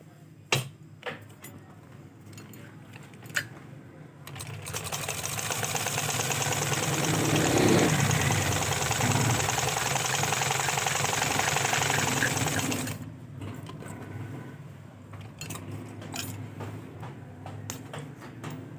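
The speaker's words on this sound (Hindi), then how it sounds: "तो ये सिलाई मशीन आवाज़ बहुत ज़्यादा कर रही है।" A faulty, noisy sewing machine whirs loudly and steadily for several seconds, starting and stopping abruptly, with faint clicks and handling noises around it.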